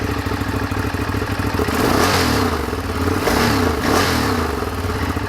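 Hyper cruiser V-twin motorcycle engine cranking slowly and then firing up, a close, loud, clattering mechanical churn that surges into a rough idle.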